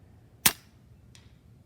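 A shot fired at a can on an outdoor target, one sharp close crack followed by a fainter metallic tick, alone against quiet background.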